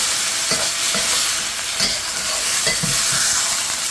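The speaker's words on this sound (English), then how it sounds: "Just going to stir that ginger and garlic, cook those raw flavours out." Ginger and garlic sizzle and fry in a pan, a constant loud hiss broken by several scraping strokes of a utensil stirring through them at a steady pace.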